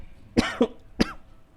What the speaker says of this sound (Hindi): थोड़ा जल्दी जल्दी बोलने में मेरा आदत है, तो बीच बीच में खांसी आ जाता है